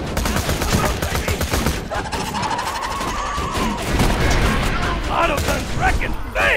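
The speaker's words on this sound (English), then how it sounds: "Autoguns wrecking things!" Sentry turret autoguns in the video game Borderlands 2 fire a dense, continuous barrage of rapid shots, loud and sustained throughout, with game effects mixed in.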